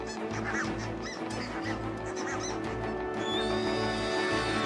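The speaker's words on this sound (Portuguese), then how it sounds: "os gansos adultos voam para salvar a pele" A flock of geese honks loudly and continuously on the Arctic tundra, overlapping calls filling the air with a noisy, raucous chorus.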